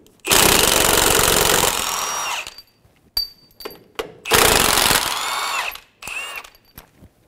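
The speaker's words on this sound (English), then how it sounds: "we're going to remove the 2 15mm bolts for the strut." Power tool buzzing in two long bursts as it removes the 15mm strut bolts on a 2014-2018 Chevrolet Silverado front strut, loud and close, with short clicks and rattles between bursts.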